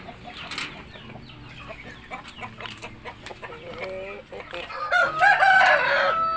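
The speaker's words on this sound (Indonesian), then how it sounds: "Ini pejantannya indio gigante pure ini." Indio Gigante chickens on a poultry farm in Temanggung, a rapid run of clucks building into a loud rooster crow near the end, close by, with faint background voices.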